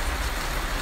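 Steady rain falls outdoors, a dense, even hiss of drops with no pauses or voices over this brief moment.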